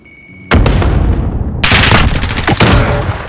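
Loud, close gunfire and explosions in Call of Duty: Modern Warfare: a heavy blast at the start, then rapid bursts of automatic fire and sharp booms crowding together.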